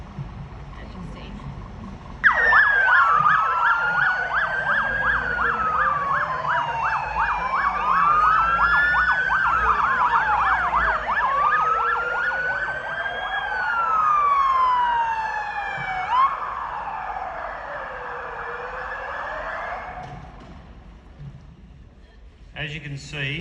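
Ambulance and Metropolitan Fire Service sirens wail together at a road crash scene, overlapping sweeping tones that grow loud and close before cutting off, with people talking nearby.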